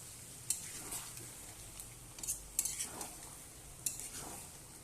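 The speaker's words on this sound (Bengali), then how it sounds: "তো আমি এখানে একটু অল্প জল দিয়ে দেব, দিয়ে ভালোভাবে নাড়বো" Pumpkin curry with chicken skin and a little added water stirred in a pan, giving soft scraping strokes and a few sharp spoon clinks against the metal over a faint low simmer.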